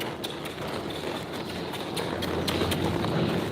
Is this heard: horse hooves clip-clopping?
yes